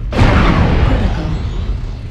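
Artillery fire in a video game lands as a single loud boom with a sharp onset, then a long rumbling decay that fades slowly.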